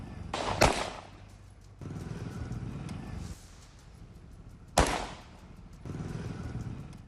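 Gangster gunfire in Pune, two sharp cracks a few seconds apart, each standing out above a muffled background rumble of street or vehicle noise.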